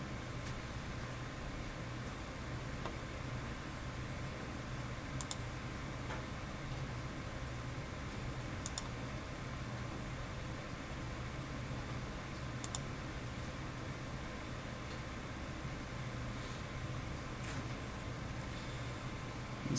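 A dimension is entered on a computer keyboard, with sparse, faint key clicks spaced several seconds apart under a constant hiss of background noise.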